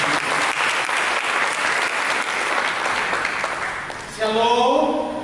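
A church congregation claps loudly and steadily after a psalm during a worship service, and an overlapping voice rises over the applause in the final second.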